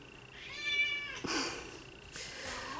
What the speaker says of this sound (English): This cat, let me tell you. He's very, very demanding.